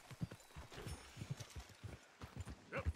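Horse hooves clip-clop at a steady walking pace in Red Dead Redemption 2, each strike distinct and fairly close, with a few louder hits near the end and no talking.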